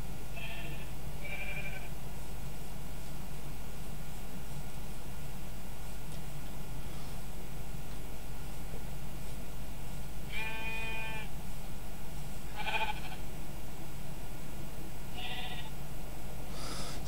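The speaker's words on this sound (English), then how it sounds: "Got more sheep there." Sheep bleating in the Minecraft game, a few short separate bleats spread over a steady hum of background ambience.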